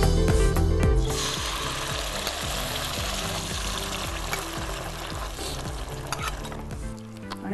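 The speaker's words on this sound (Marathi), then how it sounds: "आता फोडणी चांगली झाली की डाळ टाकायची" Whole spices such as cloves, cinnamon, cumin and mustard seeds sizzle and crackle steadily in hot oil for a tempering, with stirring clatter, loudest in the opening second and then holding even throughout.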